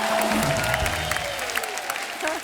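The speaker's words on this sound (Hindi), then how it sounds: "जोरदार ताली।" Studio audience applauding on a Hindi TV comedy show, a steady dense clatter of clapping with some crowd noise, plus a faint melodic tone and brief voice-like sounds underneath.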